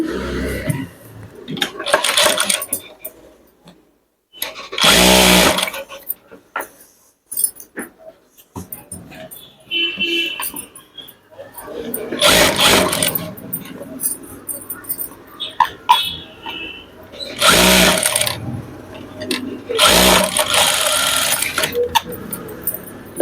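An electric sewing machine running in repeated loud bursts of rapid stitching on a chudidar top's sleeve, close by with pauses between runs and no voices.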